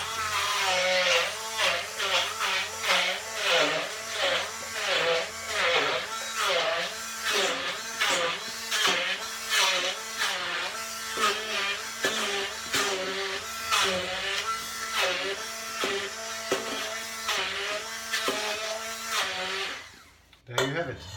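A blender grinds roughly half a can of chickpeas for hummus, its motor whirring loud and continuous with a pulsing, churning rhythm for about twenty seconds before cutting off near the end.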